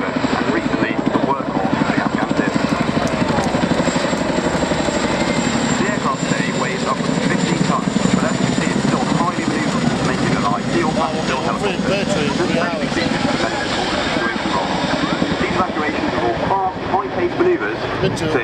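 A Boeing Chinook twin-rotor helicopter performs a flying display at RAF Waddington, its heavy continuous rotor thump and engine roar loud throughout, with a commentator talking over it.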